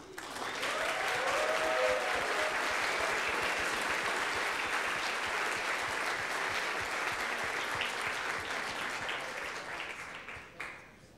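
Sustained applause from a sizable audience at the ICPC Latin America programming contest closing ceremony, a dense steady patter of clapping that fades toward the end.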